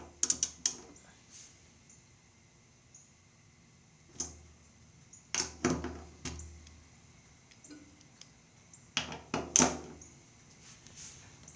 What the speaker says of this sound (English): Now you want to torque these bolts down to a